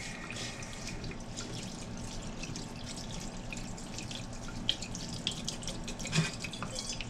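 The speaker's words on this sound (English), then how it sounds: "Going to put it back under the water. Rinse it some more while it's in that strainer." Steady running tap water splashing continuously into a sink as long grain rice is rinsed in a strainer, with a few small knocks and clinks near the end.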